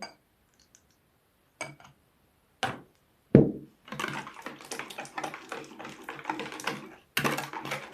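Warm kefir is stirred into beaten eggs for semolina pancake batter, starting with a few sparse clinks of the utensil against the bowl, then a steady run of close wet scraping and clattering.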